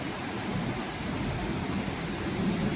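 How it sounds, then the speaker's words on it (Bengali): Heavy afternoon rain pours down steadily, a dense, even hiss of drops with no let-up and no voices. "খুব জোরে বৃষ্টিটা হচ্ছে, হাওয়াটা এতটা দেয়নি, কিন্তু বৃষ্টিটা খুব জোরে হচ্ছে।"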